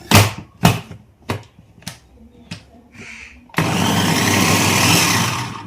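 Electric kitchen chopper chopping onions: several sharp, separate pulses and clicks at first, then a loud continuous motor whir running steadily to the end, close by.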